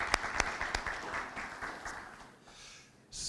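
Audience applause at a Baltimore County education initiative event, recognising workforce development board members; a burst of clapping with a few sharp claps standing out, fading toward the end before a brief swell.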